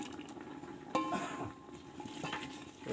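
Rice payesh with ghee and raisins being stirred in a pot, a faint low bubbling with a few soft scrapes and a light clink of a spoon against metal, quiet and close, no voices.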